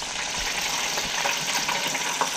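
Sheepshead fish roe frying in a pan gives a steady, close sizzle and crackle throughout, with occasional soft pops and no talking.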